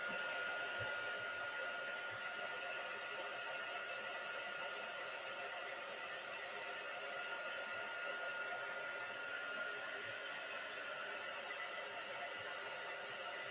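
A hair dryer blows over a freshly painted watercolour of Easter lilies, a steady airy whir that holds at a soft, even level for the whole stretch without pause.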